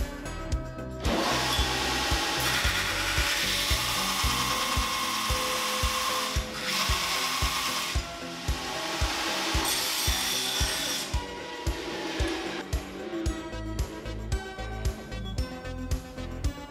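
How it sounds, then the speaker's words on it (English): A power tool cuts and grinds steadily at close range while a part is trimmed to fit on a bagger motorcycle, with loud rough rasping broken by brief pauses and pulsing strokes. "I'm going to start trimming a little bit on the bottom to get the piece set at the right angle"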